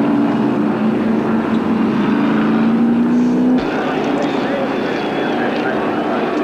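A 1978 Golden Anniversary Australian Grand Prix race car takes the chequered flag, its engine a loud steady drone that rises in pitch before cutting sharply to a duller roar, with crowd and ambient noise throughout.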